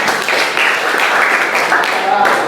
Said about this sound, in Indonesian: Kasih tepuk tangan buat kelompok 2